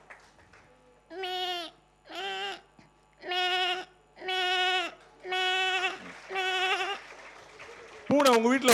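A human voice imitates an old goat bleating during a children's music therapy session, giving six drawn-out, wavering bleats in a steady rhythm, close and fairly loud, followed by a sharper final cry.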